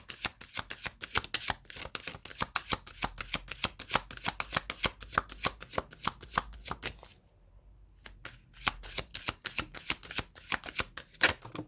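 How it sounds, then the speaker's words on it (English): Tarot cards are riffled and shuffled in quick, crisp bursts of flapping clicks close by, then a brief pause before the shuffling picks up again. "So I am going to be pulling some tarot cards to confirm."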